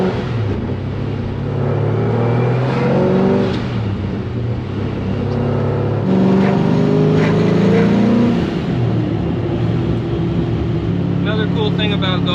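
A car fitted with a ProCharger centrifugal supercharger accelerates, its engine roaring and rising in pitch through gears, with a supercharger whine and a brief high chirp near the end, while a person talks over it.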